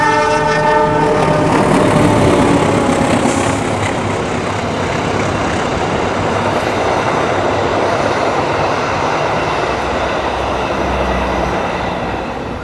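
The Argo Parahyangan passenger train rumbles past close by in Indonesia, a steady loud roar of wheels and cars with a horn-like tone early on, slowly easing toward the end.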